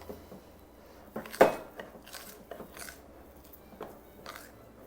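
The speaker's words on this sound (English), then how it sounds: "Going to switch to a spoon, starting to get the makings of a dough." A spoon working honey bread dough in a bowl, giving soft irregular scrapes and a few sharper clinks against the bowl, fairly quiet and close, with no talking.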